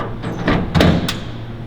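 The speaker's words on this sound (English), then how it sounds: "your door will close without a problem." An industrial dust collector's filter access door, sealed by gaskets, closes with a couple of muffled thumps over steady low machinery hum.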